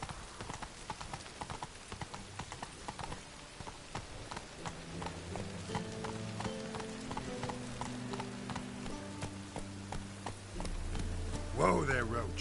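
Roach the horse's hooves clip-clop steadily across the ground in The Witcher 3 video game, a fast, even galloping rhythm up close, with low musical tones swelling beneath and a brief rising sweep near the end.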